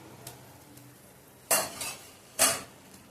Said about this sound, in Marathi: झाले, झाकण काढून घेऊया आपण।